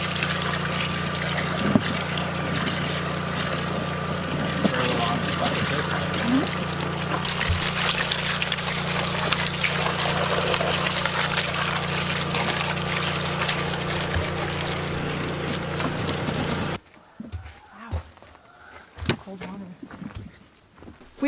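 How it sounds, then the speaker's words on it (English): Water streaming steadily over freshly harvested, wet-dirt-covered potatoes in an Alaska garden, a constant hissing rush with an underlying hum, cutting off abruptly near the end into quieter scattered rustling and knocks. "We are just lightly rinsing our potatoes to get rid of all of that wet dirt on them"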